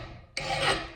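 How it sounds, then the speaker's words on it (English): An axe blade being sharpened with a flat chainsaw file gives a sudden harsh rasping stroke that starts abruptly partway through and grinds on close and steady, with no talk. "you can pretty much sharpen it and get it to a usable point with just using the flat file for your chainsaw."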